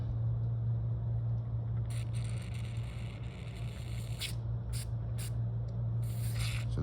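Cleaning solution sprayed into a 40-year-old Sanyo M 2405H cassette radio, a steady close hiss with a low hum beneath and several short brighter bursts of spray toward the end.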